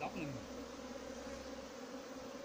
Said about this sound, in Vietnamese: Như quý chị đã thấy số lượng ong nó bay khủng khiếp chưa?